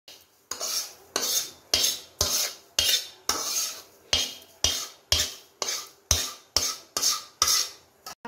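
Semolina for upma is roasted in a pan and stirred, producing a steady rhythm of about a dozen scraping strokes, each a spoon dragging through dry grains against the metal, close and clear.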